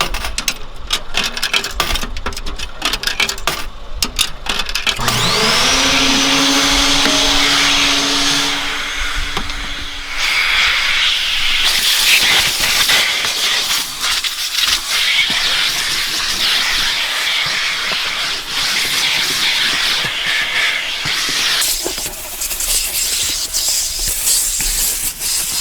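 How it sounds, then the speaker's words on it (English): A coin-operated vacuum at an apartment complex cleans out a car, a steady loud whooshing suction hum that starts around five seconds, roars on with shifting hiss as the nozzle moves, and persists to the end with no talking. "I'm gonna go vacuum my car real quick"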